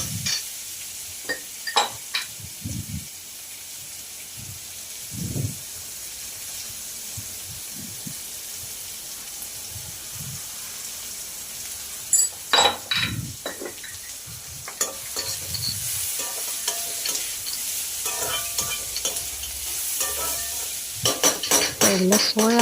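Vegetables for veg fried rice stir-fried in a pan, with a steady sizzle and repeated scraping stirs and clinks of a utensil against the pan, close and alone without talk.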